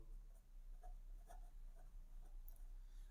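Pen or chalk strokes scratch out a word in short, quick bursts, with several faint, close scrapes and taps spaced irregularly.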